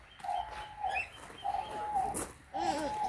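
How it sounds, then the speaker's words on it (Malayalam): Repeated clear whistling bird calls, three drawn-out notes spaced apart, over a faint outdoor background. "കിളികളാണ് കേട്ടോ ഇവിടെ ഉള്ളത്"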